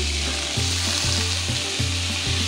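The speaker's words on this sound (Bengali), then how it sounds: "এর মধ্যে আমি 3টে মিডিয়াম সাইজের পেঁয়াজ অ্যাড করে দিলাম" Three medium chopped onions hit hot oil where cumin seeds have already fried, giving a loud, steady sizzle with a few soft stirring pulses and a low musical tone running underneath.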